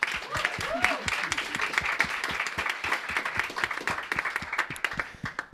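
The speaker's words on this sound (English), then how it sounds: "So a big round of applause for Carola." Audience at an impact investing evening event breaking into a round of applause, dense sustained clapping from many hands at moderate distance, tapering slightly toward the end.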